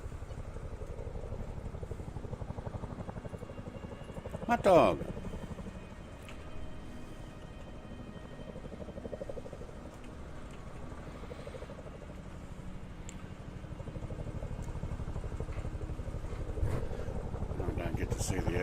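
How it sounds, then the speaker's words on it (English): A helicopter in Microsoft Flight Simulator hums as a low steady rotor and engine drone, fairly faint, under intermittent talk, with a brief louder thump near the middle. "Is that a chopper I heard?"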